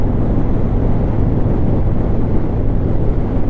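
A 2019 Harley-Davidson Breakout 114 cruises on the interstate, giving a steady, loud low engine rumble mixed with heavy wind rush and no breaks.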